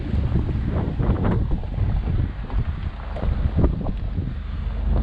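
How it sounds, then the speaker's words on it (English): Strong wind buffets the microphone during a first test drive of a wrecked Jeep, a loud, continuous low roar with gusting swells and no clear speech over it. "It's a little windy."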